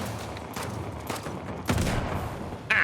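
A handful of heavy gunshots ring out at irregular intervals in Uncharted: The Lost Legacy, each a sharp, booming report from a hard-recoiling weapon with a short tail between shots.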